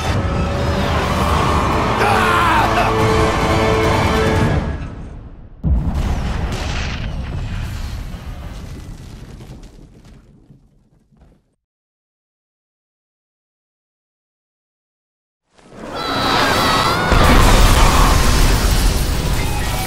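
Tanks exploding in Bulletstorm after a blast compression shot, loud booming blasts with rumbling debris that fade into near silence before another heavy explosion bursts in.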